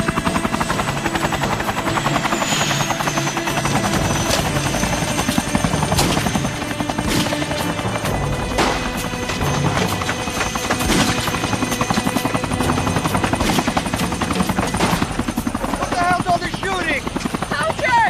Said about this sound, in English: There's the chopper.